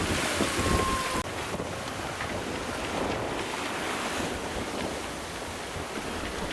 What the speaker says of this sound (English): the seas were big and lumpy